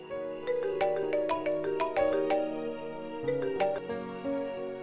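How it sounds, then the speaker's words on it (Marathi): A phone ringing on an outgoing call plays a repeating melodic ringtone pattern, clear and steady at moderate volume with no talk over it. "पण तरी एक काम करते, शौनकना फोन करते,"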